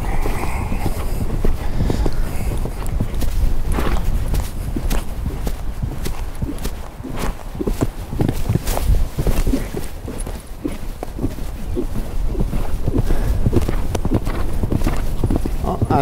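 Hooves of a ridden horse clip-clop on firm ground in a steady, fairly close rhythm of footfalls that continues throughout, with no talk.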